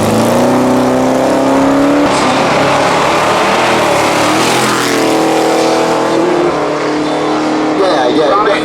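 Drag race car on a no-prep quarter-mile strip at Manston Raceway, engine roaring loud and steady as it accelerates down the track, with a commentator talking over it throughout.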